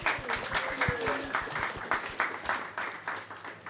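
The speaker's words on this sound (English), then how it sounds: "a round of applause for Senator Hanson-Young" Audience applause at a policy talk for Senator Hanson-Young, with a moderately loud crowd clapping in a steady patter throughout and some faint voices mixed in.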